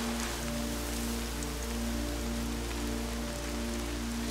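Steady rain falling in the Horizon Zero Dawn video game, a dense even hiss of drops over a low game-audio drone, continuous and unbroken with no voices.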